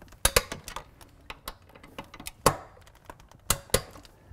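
Sharp clicks and metallic ratchet ticks from torquing down the rear seat screws in a Land Rover LR3, irregular taps close by with a few louder snaps, no talk.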